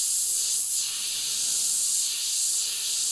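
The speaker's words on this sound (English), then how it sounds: "So easily done by airbrushing back over with your white." An airbrush sprays white paint in a steady, continuous airy hiss, close and even throughout with no pauses.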